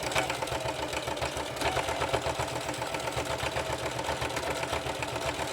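A sewing machine running a straight stitch along a purse strap, its needle thumping in a fast, even mechanical rhythm, close and steady without talking.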